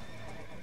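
Horse in the video game Red Dead Redemption giving a single close whinny over clip-clopping hooves, with no voices.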